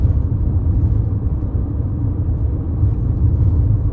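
Steady low road rumble and tyre drone inside a moving 2023 Toyota Highlander L Turbo on 18-inch wheels, a constant loud hum with no talking.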